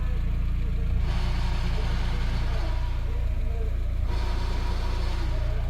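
Volkswagen Transporter with a gearbox that struggles to engage first gear, running at a steady idle with a continuous low engine drone and faint mechanical whine throughout, nearby and moderately loud.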